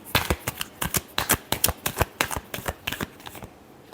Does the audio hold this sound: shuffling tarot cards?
yes